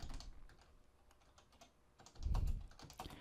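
Typing on a computer keyboard, a scattering of soft key clicks close by, with a heavier thump partway through, quiet and without speech.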